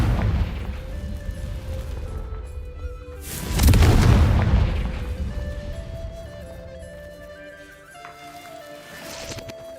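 Fire spell explosions in the Hogwarts Legacy video game land as a heavy booming blast in the middle, with a rumbling tail that fades under a layered game music score and quieter effects.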